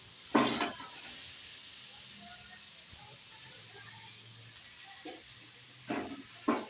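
Oil sizzles steadily under a masala roti (thalipattu) cooking on a hot pan, a low, even frying hiss broken by a few louder scraping bursts as it is turned and handled.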